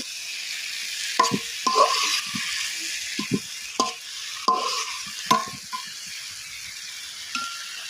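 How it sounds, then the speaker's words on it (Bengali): Thankuni leaves and dried loitta fish fry in oil in a pan, with a steady sizzle broken by repeated scraping stirs of a spatula, close and fairly loud, with no talk. "এই তেলেই কিন্তু সব কিছু ভাজা হয়ে যাবে"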